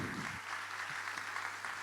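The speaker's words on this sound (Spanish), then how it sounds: "Les pido un aplauso para ella, que ya sube al escenario" A crowd claps at the opening of a 2025 book fair, a steady, slightly distant patter of many hands that runs on evenly after a brief low rumble at the start.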